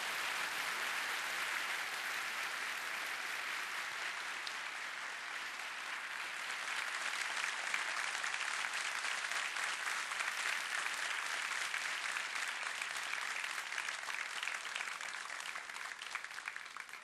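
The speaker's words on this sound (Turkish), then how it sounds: "şöyle kuvvetli bir alkış rica" A concert audience at a Turkish classical music radio concert in Ankara applauds the musicians, with sustained, dense, even clapping that swells slightly midway and carries on without speech.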